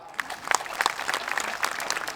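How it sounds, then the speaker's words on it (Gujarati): A village audience at an Adivasi cultural-forum event bursts into brief, dense clapping for the organizers, a short burst of many hands that lasts about two seconds. "આયોજકો માટે એક જોરદાર તાળી"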